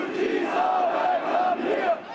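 Demonstrators at a refugee welcome rally in Dresden chant together in a rhythmic, loud crowd call, repeated phrases rising and falling over the steady roar of the crowd.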